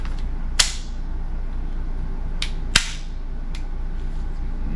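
A 9mm round pressed into a Springfield XDE magazine as the last cartridge, two sharp metallic clicks a couple of seconds apart, plus a fainter tick, close up against a low background hum.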